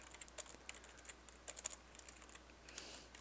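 Typing Java code on a computer keyboard, a quick irregular run of light key clicks close by, fairly soft and with no talking.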